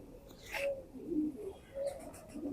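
Soft pigeon coos, one of two males, come in a few low murmuring phrases, close and fairly quiet, with no talk over them.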